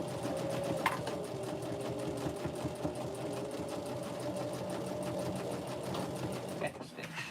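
A sewing machine stitches a pocket tissue pack cover, including a backstitch: a steady, close mechanical rattle of rapid needle strokes running for several seconds, with a person talking over it.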